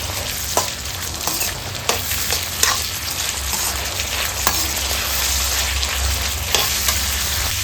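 Sweet corn frying in a pan for masala corn chaat, giving a loud, dense, continuous sizzle broken by periodic sharp clicks and scrapes of stirring, with no voices.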